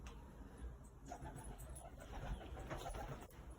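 Soft, low cooing of pigeons, repeated at close range over faint background hum, quiet and unhurried.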